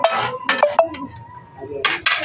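A metal lid clanks onto a pot of boiling chicken feet, then a spoon scrapes and clinks against the side in a few short, close knocks separated by quiet simmering.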